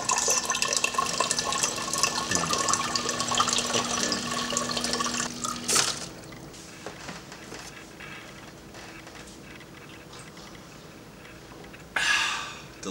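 An office water dispenser fills a glass with a steady stream for about six seconds, then stops, leaving quiet drips and faint handling noises until a short burst of flow near the end.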